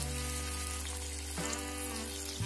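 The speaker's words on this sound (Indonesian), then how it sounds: "kita masukkan air asam jawa" Tamarind water hits a hot frying pan and sets off a steady, loud sizzle with a wet crackle, while a low electrical hum runs beneath it throughout.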